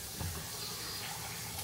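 Water being poured for cooking rice makes a continuous, close splashing rush that runs for the whole short stretch with no pauses or talk.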